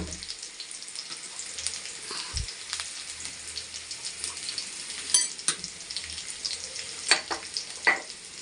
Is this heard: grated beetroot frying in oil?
yes